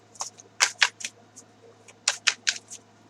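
Crisp papery riffling clicks come in two short clusters, like a deck of cards being shuffled close by, with a quiet hum underneath.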